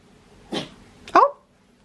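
A dog gives two quick, close sneezes about half a second apart in a quiet indoor room. The second sneeze is sharper and louder than the first.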